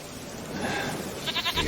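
A goat bleats in The Witcher 3 video game, a few short wavering calls near the end over a dense background bed, close and moderately loud, with no talk.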